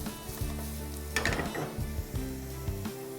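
Curry leaves, green chili, grated carrot and finely chopped beans get a quick toss in a hot pan, giving a soft sizzle and a brief scrape of stirring, with no talk.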